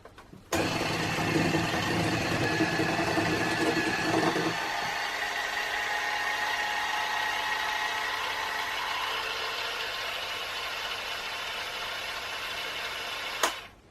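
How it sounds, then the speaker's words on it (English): An electric hand whisk mixes gluten-free, yeast-free cookie dough in a bowl, whirring loudly and steadily after switching on, dropping to a lighter tone partway through, then clicking off at the end. "we're just going to give this mix one final mix with our electric hand whisk"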